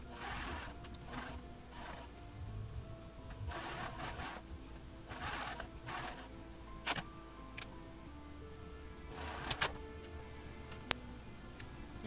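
Sewing machine basting a collar in place on a 1940s-style blouse, quiet close stitching in short bursts with ticking pauses between runs.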